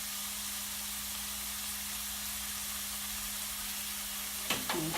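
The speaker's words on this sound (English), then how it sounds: "So I'm going to let this onion saute for a couple of minutes." Onion and garlic paste sautéing in a pan for shrimp cutlets, a continuous broad hiss under a low steady hum, with a few brief utensil clicks near the end.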